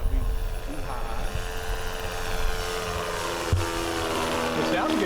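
A 1:6.5 scale Phoenix Cessna Skylane 182 RC model plane on its maiden flight over a grass field drones steadily at moderate distance, its engine note shifting slightly as it passes, with people chatting nearby.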